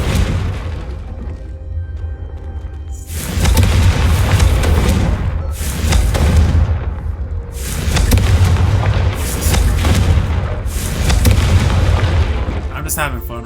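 Repeated Confringo spell explosions in Hogwarts Legacy: a series of loud, booming blasts about every couple of seconds, each with a rumbling decay, over an ongoing low game background.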